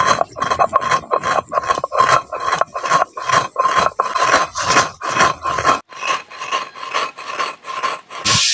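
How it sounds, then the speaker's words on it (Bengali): Half a cup of sugar being ground to powder in an electric grinder, giving a steady, loud rasping whir with rhythmic pulses throughout, no voices. "এই চিনিটা এখন গুঁড়ো করে নিচ্ছি।"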